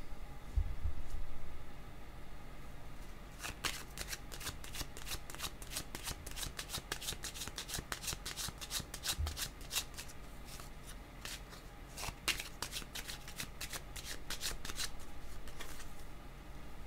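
A deck of playing cards being shuffled during a card reading, heard as quick repeated riffling bursts, close and fairly loud, separated by short pauses over a faint background hum.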